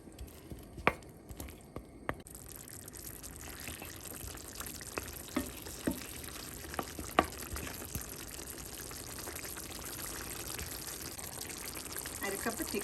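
Chicken curry simmering in a pan, a steady close sizzle and bubbling with scattered sharp clicks and clatters throughout, continuous and fairly quiet.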